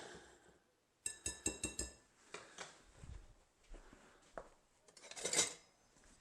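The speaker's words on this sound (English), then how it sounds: "I'm going to add that to the flour. And just give it a quick stir to sort of mix them together." A spoon stirs salt into flour in a bowl, giving faint, quick clinks and scrapes against the bowl in a short rhythmic run, then softer, scattered taps.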